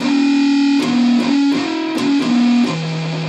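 A heavily distorted eight-string electric guitar, played through an Orange Micro Dark amp, rings out harmonics in a series of sustained, bell-like notes, each struck anew and left to sustain, loud and alone.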